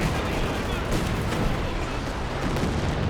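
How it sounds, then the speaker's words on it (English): Katyusha rocket artillery barrage striking an enemy base in Company of Heroes 2, a dense rumbling roll of explosions and crackling impacts, loud and continuous, with a voice talking over it. "There's the Katyusha into Scope's base again"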